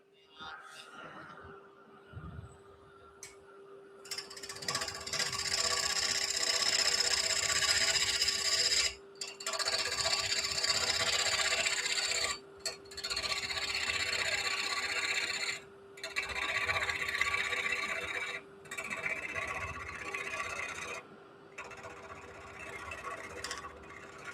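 A turning tool cuts into a spinning live-edge wooden bowl on a lathe, producing a close, continuous rasping scrape in long passes broken by short pauses, with occasional talk.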